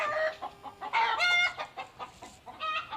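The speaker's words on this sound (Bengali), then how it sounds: "পাঁচতলা ছাদের উপরে মুরগির খামার" Chickens on a chicken farm on a five-storey rooftop, clucking and calling loudly and close in several bursts, with bird calls rising and falling across the clip.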